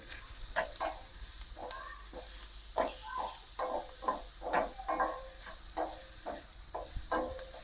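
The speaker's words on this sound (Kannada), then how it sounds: "ಈಗ ಸಣ್ಣ ಉರಿ ಒಳಗ 1-2 ನಿಮಿಷ ಇದೇ ತರ ಫ್ರೈ ಮಾಡ್ಕೋಬೇಕು ನೋಡ್ರಿ" Vegetables fry in oil over a low flame in North Karnataka style, giving soft intermittent crackles. Spoon scrapes and stirring knocks sound close and fairly quiet.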